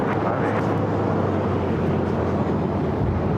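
A Boeing 747 airliner taxiing at LAX produces a continuous, dense low jet rumble that holds steady and loud throughout, with no distinct breaks.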